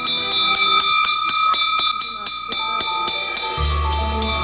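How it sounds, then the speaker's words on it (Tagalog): An iron bar used as a school bell in Madalag, Aklan, Philippines, struck repeatedly in a fast, even rhythm, bright ringing clangs that continue as a low hum and voice-like tones rise near the end. "Sa tunog ng bakal na nagsisilbi nilang batingaw"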